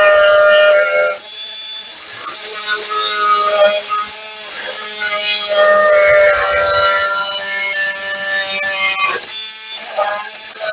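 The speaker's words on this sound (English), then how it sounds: "I'm going to use this oscillator tool to try to just cut the metal." An oscillating multi-tool saws into a metal muffler pipe on a 1976 Vermeer LS200 log splitter with a Kohler K301 engine, giving a loud buzzing, shrieking cut that runs steadily with a few short pauses.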